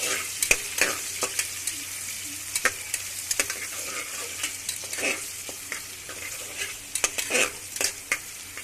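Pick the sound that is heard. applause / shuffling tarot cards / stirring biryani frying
stirring biryani frying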